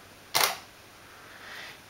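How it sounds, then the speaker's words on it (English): A single camera shutter fires at 1/500 second, one crisp short click standing out clearly against a faint steady background hiss in a quiet room. "So I'm gonna take a picture now at 500"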